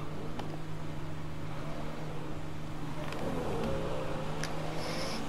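A car in GTA accelerates with a steady engine drone under a faint rising whine and a few light ticks, moderately quiet and without speech.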